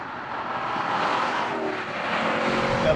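A Chevrolet SS four-door muscle sedan's engine drones steadily while driving, a smooth, sustained hum with a gentle rise in intensity toward the end and no talking.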